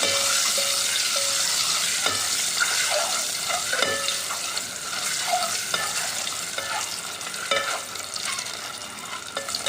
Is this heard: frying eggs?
yes